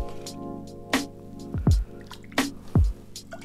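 Vinegar is poured into a medium saucepan to make pickle brine, producing a few splashy, gurgling glugs and drips in uneven bursts, close and fairly clear.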